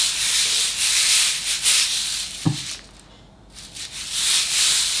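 Dry red beans rolled around in a dustpan to imitate ocean waves, a steady granular rushing hiss that swells and eases, with a brief quieter dip midway.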